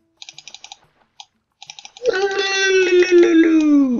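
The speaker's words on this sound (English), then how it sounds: "click and hold the mouse button anywhere on the ground and drag the mouse through around the village" A rapid run of computer mouse clicks while playing Virtual Villagers: A New Home, coming in short bursts, followed by a loud, sustained tonal game sound.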